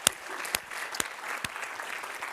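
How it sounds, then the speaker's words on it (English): Applause from an audience at a health system leadership meeting, a steady patter of clapping with a few sharper individual claps standing out, moderately distant and alone. "So let's give them a big round of applause"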